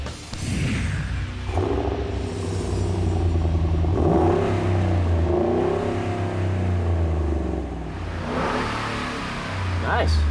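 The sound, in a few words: Ford Raptor SVT truck engine revving with new exhaust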